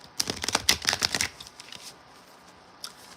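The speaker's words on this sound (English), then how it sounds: "I can't shuffle like I want to because my finger hurting." Tarot cards being shuffled by hand in a quick burst of crisp riffling flutters, close up, then a few faint soft card taps after a pause.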